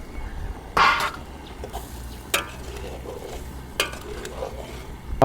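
Eel and snakehead fish stir-fried in a spicy Thai pan dish, a soft sizzle beneath several sharp scrapes and clanks of a utensil stirring against the pan.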